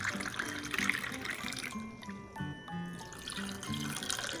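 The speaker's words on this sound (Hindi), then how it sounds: "अब हम इसमें डालेंगे ऊपर से शरबत।" Phalsa sharbat syrup is poured over a drink in a soft, close liquid trickle and splash that runs continuously, with gentle dribbling and faint clinking in between.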